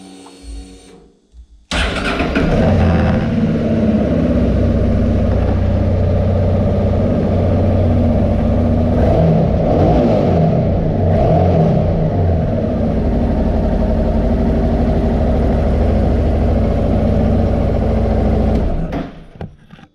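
A Honda Deauville NT700 motorcycle, reassembled after removal of its fuel tank, airbox and IACV, cranks briefly and catches, then idles loudly and steadily for about sixteen seconds before cutting off, close by with no talking.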